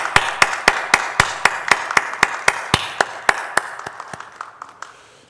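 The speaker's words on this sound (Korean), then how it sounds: "우리 하나님께 영광의 박수 올려드리겠습니다" A lone pair of hands claps slowly and evenly during a Sunday church worship service, about twenty crisp, close claps in a steady rhythm that fade slightly toward the end, with no voices.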